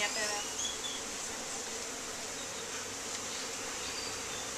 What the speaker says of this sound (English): there's a lot of bees hanging.